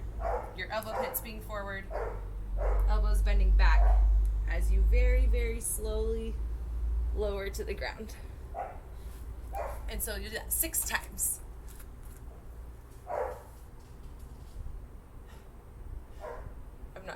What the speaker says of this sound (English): I'm not sure if you can hear the dogs barking.